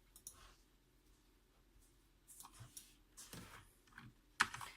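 Keys struck on a Corsair K65 keyboard, sparse faint clicks at first, then a quicker cluster of louder keystrokes ending in one sharp near tap, with no voice over them.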